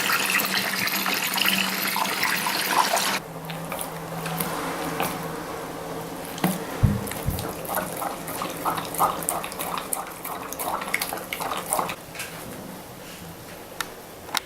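Water runs into a bath in a home, first as a strong steady gush, then as softer splashing and clinks once the flow drops.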